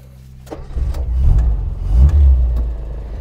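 A small Austin Metro petrol engine with an SU carburettor turns over and catches, then runs with a low, uneven throb that swells twice, close by and fairly loud, with no one speaking.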